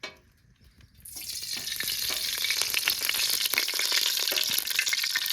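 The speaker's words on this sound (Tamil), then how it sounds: "ஸ்பைஸ் அப்ஸை வந்து எண்ணெயில் போட்டுக்கலாம்" Whole spices dropped into hot oil in a kadai, the sizzle bursting in after a second of quiet and then crackling steadily and brightly, close by, with no voices.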